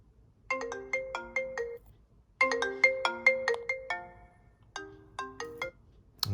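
An iPhone ringtone plays from the sound settings menu, a bright chiming melody of quick repeated bell-like tones in three bursts separated by short gaps, clear and close with no talking.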